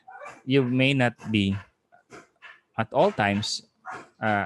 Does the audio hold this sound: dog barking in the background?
yes